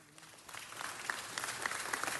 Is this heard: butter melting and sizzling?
no